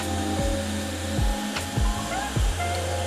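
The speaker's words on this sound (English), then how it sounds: "I grab my blow dryer and I put everything on high, on cool" A blow dryer running on high with the cool setting roars steadily at close range while its pitch dips and swings several times as it is moved around after a haircut.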